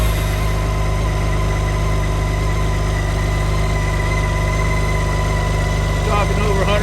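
A six-cylinder engine on a 2013 BMW 1600 GTL motorcycle idles steadily with a deep, smooth hum and constant vibration, close and loud, with a brief burst of voice near the end.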